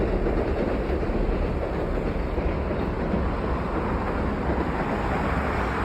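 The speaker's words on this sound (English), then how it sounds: "I just love seeing the trains." A train passing in Uji, Japan, a continuous loud rolling rumble with a steady wash of wheel and rail noise close by, no voices.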